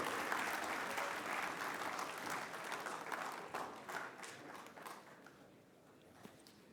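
A cyber awareness day audience gives a guest speaker a welcoming round of applause, dense at first, then gradually thinning and fading out toward the end.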